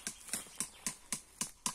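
Hooves step along a roadside at a steady walking pace, about seven distinct hard clops close by with quiet gaps between them and no talking.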